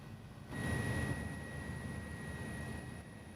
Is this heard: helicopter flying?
yes